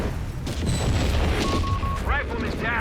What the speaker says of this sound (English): 150 mil barrage here from HeartlessJ on one of the 2 beach artillery pieces here